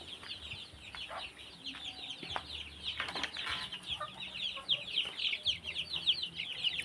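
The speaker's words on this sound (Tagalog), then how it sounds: "pakita ko sa inyo yung aking mga alagang native chicken" A flock of native farm chickens clucks and chirps continuously at moderate distance, a busy overlapping chatter of many birds with scattered soft knocks and movement.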